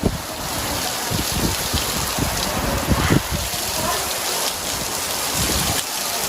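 Rain falling steadily across an open groundnut field, a broad continuous hiss with scattered drops and a light gust of wind now and then.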